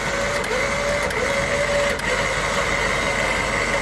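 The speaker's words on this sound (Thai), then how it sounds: "เร่งเครื่องด้วย" A 2021 Mitsubishi Triton pickup engine runs at raised revs during an off-road winch pull, a steady droning hum with a faint whine and mechanical whirr that holds continuously and loudly throughout, with no talk.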